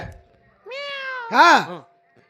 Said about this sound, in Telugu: వచ్చింది వచ్చిందంటివే పులి కాదు పిల్లి